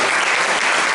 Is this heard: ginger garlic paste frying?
no